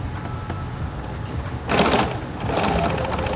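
A sewing machine stitches a narrow quilt seam for a flange binding, a quiet motor hum rising into two short, louder bursts of rapid needle chatter.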